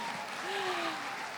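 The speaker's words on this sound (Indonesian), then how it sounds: "Tepuk tangannya kurang berenergi," Brief, fairly soft applause from a conference audience, with a voice speaking over it.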